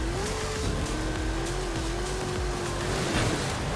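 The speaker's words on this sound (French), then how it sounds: "Une fois montée, la voiture est tellement rapide." A car races at high speed in the Forza Horizon 5 video game. A loud, sustained engine whine holds a steady pitch with slight wavers over constant road and tire noise, and no voices are heard.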